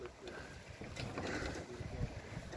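The bow of a sailboat under sail slices through waves, giving a faint, rushing wash of water and wind with soft splashes, heard up close while a voice speaks quietly over it.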